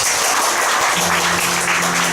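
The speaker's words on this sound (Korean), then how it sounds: "이분들 우리가 칭찬해드리는 겸 해서 박수 한번 쳐드렸으면 좋겠습니다" Church congregation at an afternoon worship service breaking into applause, a steady dense wash of clapping throughout, with a low sustained hum or tone entering partway through.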